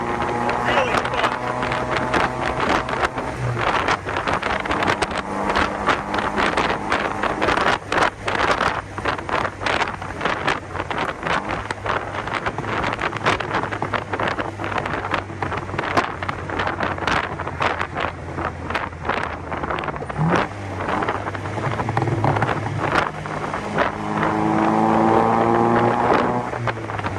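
A 1954 Austin Healey 100-4 BN1 in 100M Le Mans spec cruises in third gear without overdrive at about 1,000 rpm, its engine a steady low drone beneath heavy wind buffeting, with a voice speaking at times.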